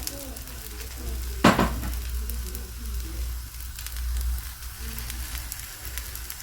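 A savoury crepe cooks in a hot pan with a soft, steady sizzle, and one sharp clatter of a utensil or pan comes early.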